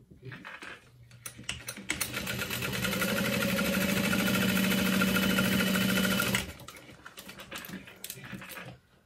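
A sewing machine stitches a seam on a satchel bag, a loud continuous rapid whirring run of several seconds framed by quieter start-up and stopping clicks.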